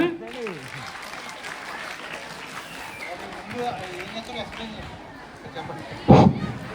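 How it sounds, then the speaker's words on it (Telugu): A school audience of high-school children claps together, a steady wash of applause under a voice, ending in a louder burst of clapping near the close. "పట్టండి రా చప్పట్లు"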